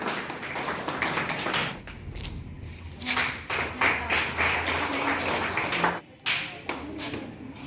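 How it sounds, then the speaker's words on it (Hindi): A crowd claps steadily in welcome for guests at a school cluster's retirement farewell ceremony in Pharsaguda, a dense, sustained wash of hand claps with scattered thuds and brief dips. "जोरदार तालियों से स्वागत करेंगे।"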